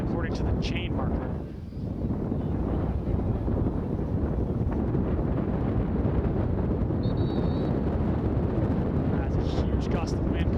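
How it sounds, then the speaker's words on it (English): A strong gust of wind batters the microphone at an outdoor high school football game, a loud continuous low rumble and roar lasting throughout, with faint announcer voices underneath. "As a huge gust of wind comes on"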